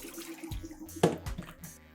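Dish water draining from one sink of a cafe's multi-compartment washing station, a gurgling, splashing flow with a few louder sloshes partway through.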